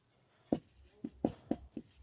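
Pen or chalk writing out a quadratic equation, a few quiet taps and short scratchy strokes spread over two seconds, close and faint, with no talking.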